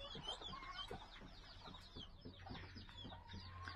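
Hens cluck steadily and close by in a farm pen that also holds guinea pigs, with overlapping calls and short squawks continuing throughout.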